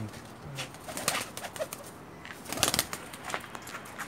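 A pair of Teddy pigeons is released outdoors, with bursts of flapping wings mixed with soft cooing and other bird calls at moderate distance.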